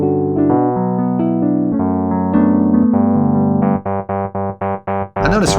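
Mellow Wurlitzer electric piano software instrument chords with a warm, bell-like tone, sustained at first, then a series of short, evenly spaced repeated stabs.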